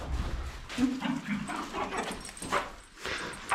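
A herding dog whimpers and whines in short, close, high-pitched bursts while cattle are being moved through a farm gate, with scuffling and movement noise around it.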